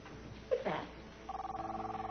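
A cell phone rings in a tense 1990s drunk-tank scene, its steady pulsing electronic tone starting partway through and repeating evenly after a brief rustle and a voice, fairly quiet and close.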